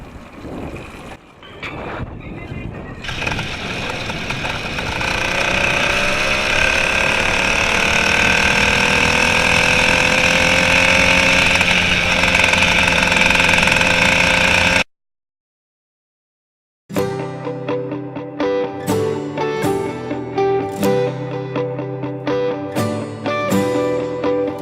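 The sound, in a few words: gasoline engine running on a motorized mountain bike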